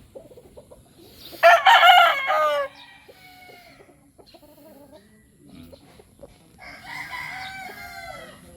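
A yellow-legged gamecock rooster crows loudly and close by, a strained cock-a-doodle-doo, followed by softer clucking and a second crow-like call near the end.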